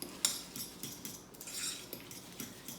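A utensil scraping chopped onion into a bowl of guacamole and stirring it in, giving soft repeated scrapes and light clinks of metal against the bowl at close range, with no talk.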